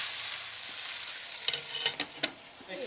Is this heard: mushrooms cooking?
yes